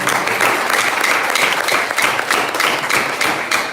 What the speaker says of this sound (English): put your hands together as we welcome our speaker for today